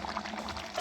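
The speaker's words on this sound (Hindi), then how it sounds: "अब इसमें हम हाफ़ कप पौना कप ऑयल डालेंगे" Half to three-quarters of a cup of oil is poured into a cooking pot of fried kachnar, giving a brief, steady close-up pour with a soft sizzle underneath and no voices.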